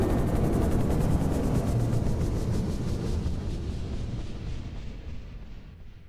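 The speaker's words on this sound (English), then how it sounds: "adding reverb to signify that the helicopter is distant from the main player" A video game helicopter sound effect, set in a snow level and made to seem distant with reverb: its blades make a washy, pulsing drone that slowly fades and thins over several seconds, with no voices.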